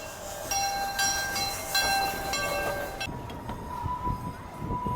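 An amusement park train at Cedar Point rumbles past with sustained tonal squealing from the wheels, then the clatter fades into rolling noise; no voices.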